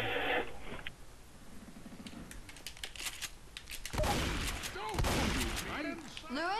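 Rapid bursts of gunfire in the zombie shooter Left 4 Dead 2, sharp cracks stacking into dense volleys with a loud cluster near the end, layered over game ambience.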